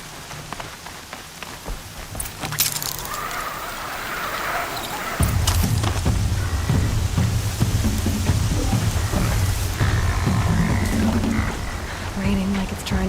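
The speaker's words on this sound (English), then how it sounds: "Raining like it's trying to wash everything away." Steady rain pours down in the video game Horizon, a dense wash of drops hitting surfaces that grows heavier and louder midway, with frog-like croaks scattered through it and no talking.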